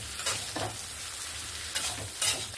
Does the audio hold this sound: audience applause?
no